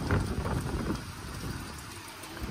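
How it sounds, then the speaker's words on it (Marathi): Pre-monsoon May rain falls in Mumbai as a steady patter and hiss of drops on surfaces, moderately close and fairly quiet, with no voices. "मी पहिल्यांदा असा मे महिन्याचा पाऊस एन्जॉय करतोय"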